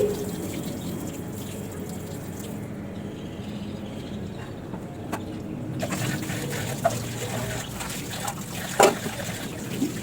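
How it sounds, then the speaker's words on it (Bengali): Tap water runs softly over a bottle gourd being washed, a quiet steady trickle with small splashes and a brief clink of handling near the end. "ভালো করে এখানে লকিটা একটু ধুয়ে নিচ্ছি।"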